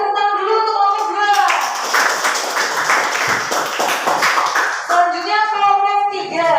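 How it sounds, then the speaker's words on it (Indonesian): A school class claps together for a presenting group, a short burst of brisk applause in a classroom, framed by children's voices talking before and after. "kita kasih tepuk tangan dulu untuk kelompok 2"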